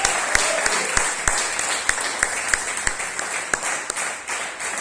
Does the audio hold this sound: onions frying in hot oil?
no